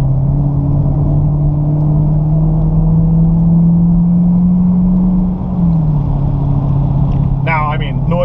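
A 2016 Dodge Charger R/T Scat Pack with the 392 engine drones loudly and steadily at Texas Motor Speedway, a constant low hum that dips briefly near the end.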